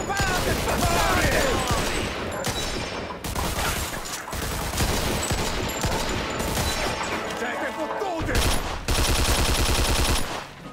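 Heavy gunfire in Mafia II Definitive Edition comes as dense bursts of shots and rapid automatic fire that rattle almost nonstop and loud, broken by a few short lulls, with shouting voices mixed in.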